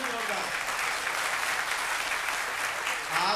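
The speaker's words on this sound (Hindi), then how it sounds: "और आप श्वेता जी के लिए सर्वाधिक तालियां इसलिए बजाएं कि वो अतिथि हम तो घर के हैं।" Steady, dense applause from the audience at a Hindi poetry recital (kavi sammelan) during a cultural evening at Narmada Sahitya Manthan 2026, sustained throughout at an even level.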